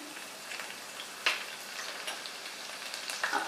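Finely chopped green chillies sizzle and fry in a hot pan while making samosa filling, a steady close crackle with a few sharper pops and stirring clicks, no talk.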